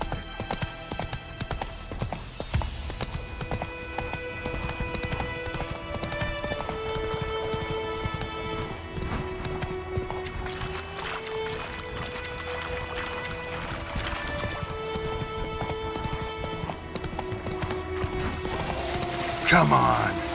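Hooves of a horse in The Witcher video game clip-clop in a steady galloping rhythm throughout, close and clear, with a rider's voice urging it on and a brief snort near the end.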